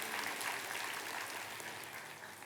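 A church congregation claps in applause during a Christmas sermon, a dense, steady, fairly faint wash of many hands with no voices over it.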